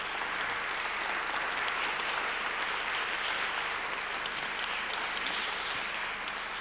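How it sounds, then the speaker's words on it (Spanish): Sustained applause from an audience at an academic lecture on diabetes epidemiology, steady and dense throughout without any talking. "Pero les pido un aplauso tan duro que se oiga allá en"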